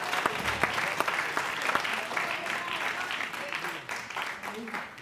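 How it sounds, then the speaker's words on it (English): An audience claps and cheers for volunteer musicians at a percussion session, a dense, steady round of applause with a voice talking over it. "let's give one more applause to all of our volunteer musicians who came up today to help us out."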